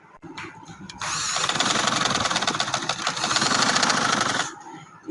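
A sewing machine motor whirs steadily as it stitches along the edge of fabric for a neck design, a loud continuous buzz starting after a second and stopping near the end.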